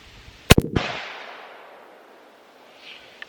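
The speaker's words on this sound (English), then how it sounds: "I'm going to shoot that center head here with these 35 grain Hornady NTX rounds" A 22-250 rifle fires a 35 grain Hornady NTX round at a 100 yard range, one sharp loud crack with a quick echo that trails off, followed by faint small clicks.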